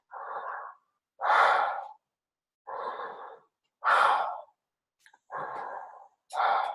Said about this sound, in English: I'm going to breathe in and out through my mouth